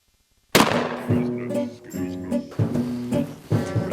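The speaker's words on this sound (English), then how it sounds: "I'm gonna try to shoot some bottles of acrylic paint so that they'll splatter across a canvas." A single loud gunshot fired at bottles of acrylic paint to splatter them across a canvas cracks sharply at the start, followed by ringing, clattering debris and scattered thumps.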